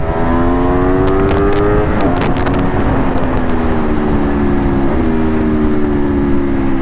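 A loud Aprilia Tuono V4 motorcycle engine drones steadily, its pitch rising and falling through gear changes as the bike rides past, with brief sharp bursts from the exhaust.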